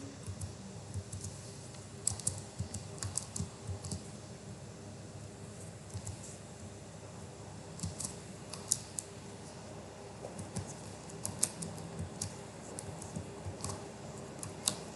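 Quiet typing on a computer keyboard while writing Python code, scattered soft key clicks in irregular bursts over a low background hiss, without speech.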